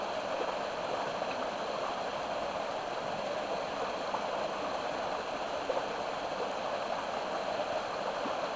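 Unnamed creek in the Blue Mountains, joining Leura Falls Creek below Kingsford Smith Park, flows in a steady broad rush of water, close and constant with no breaks and no voices.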